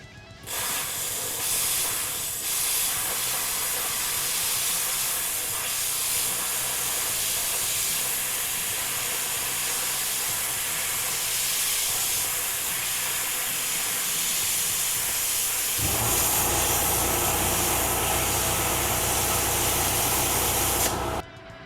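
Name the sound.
plasma cutter (Arccaptain) cutting 1/4 inch steel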